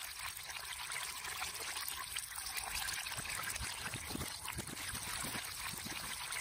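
Water drains from a flooded well in a steady pouring trickle, with a constant close splashing rush and a few gurgles, no voices.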